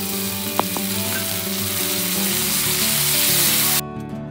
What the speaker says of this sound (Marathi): हे पटकन असं भाजलं जातं, त्याच्यामुळे सगळ्यात शेवटी जिरं टाकायचं